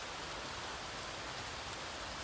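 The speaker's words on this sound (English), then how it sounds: "The rain fell in soft, silver threads, weaving its lullaby against the tall, arched windows of Ravenclaw Tower." Soft, steady rain patters against the tall arched windows of Ravenclaw Tower, a faint, even hiss with no breaks and no voices.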